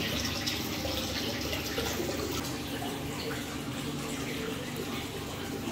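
Steady broadband rush of water running in a jacuzzi in a hotel wellness center, continuous and moderately loud throughout with no talking.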